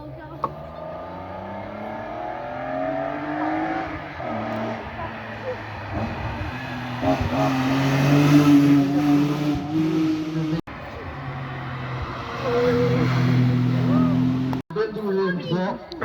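BMW M3 racing car climbing the Bettant historic hillclimb, engine howling and rising through revs with gear-change drops, close and loud, with a sharp break in sound, while people talk nearby.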